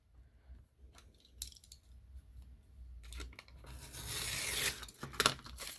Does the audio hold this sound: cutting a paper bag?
yes